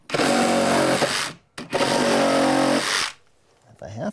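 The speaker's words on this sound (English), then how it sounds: "I'm going to go along and cut any nails that are still in the joists" Power tool cutting through nails in wooden shed joists, two loud buzzing bursts of about one and a half seconds each separated by a brief pause, close to the microphone, followed by quieter handling noise.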